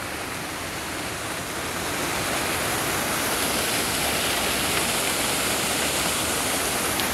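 A village waterfall on a stream roars steadily, a loud, dense rushing wash of falling water that swells slightly and then holds constant, with no voices over it.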